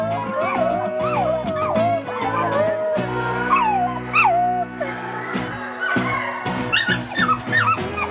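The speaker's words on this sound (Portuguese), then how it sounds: "Eles uivam, rosnam, latem e ganem com muitas variações" Wolf pups whine, yip and bark in overlapping, pitch-sliding cries and short yelps, close and fairly loud throughout, with a steady low drone underneath in the middle.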